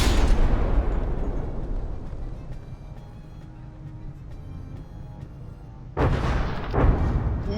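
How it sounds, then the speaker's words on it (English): Shells detonate against a warship in the From the Depths naval combat game, making a heavy rumbling blast that fades into a low drone, followed by a sharp new burst of explosions near the end. "Those shells are detonating and just blowing up some wooden compartmentalization blocks."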